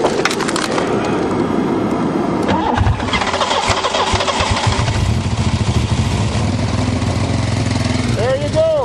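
The 3.8 V6 engine of a crushed Buick Regal cranks and then catches, running loud and rough with clattering, close to the listener while someone talks over it.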